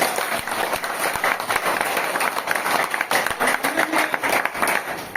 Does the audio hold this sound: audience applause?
yes